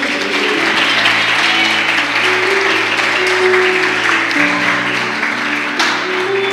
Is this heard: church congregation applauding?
yes